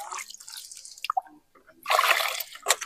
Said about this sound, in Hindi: जो तो अधरू है गंदो पानी जो फेंके दे रही,